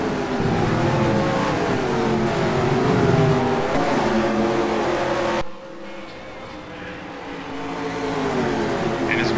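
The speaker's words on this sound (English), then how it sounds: "Watch all the cars zip by, no incidents thus far." Race cars rush past on a circuit track one after another, loud and steady engine drones with rising and falling pitch, then a brief drop before engines swell again, no speech.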